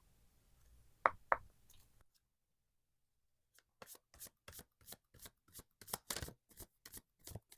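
Tarot cards are handled. Two sharp taps come first, then after a silent pause a quick series of crisp card snaps and riffles plays up close, with no talking.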